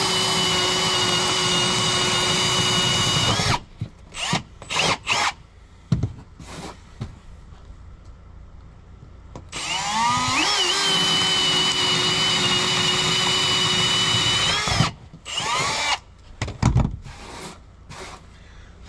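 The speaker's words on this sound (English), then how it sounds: "He's drilling through the deck." A loud power drill whines and grinds as it bores through a wooden deck in long, steady bursts, stopping and starting several times with short pauses between runs; close by, no talking.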